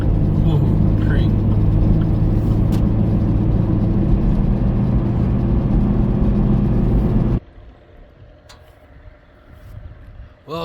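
A car driving along a road on a summer morning gives a loud, steady engine and road roar for about seven seconds, then cuts to quieter outdoor ambience.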